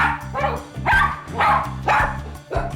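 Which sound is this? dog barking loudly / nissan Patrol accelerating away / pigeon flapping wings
dog barking loudly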